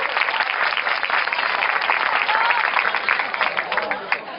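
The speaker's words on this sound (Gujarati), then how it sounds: "આપણે બધાને અભિવાદિત કરીશું તાળીઓથી." A crowd at a kirtan antakshari devotional singing contest applauds as a team's score is announced, sustained dense clapping at steady loudness for several seconds.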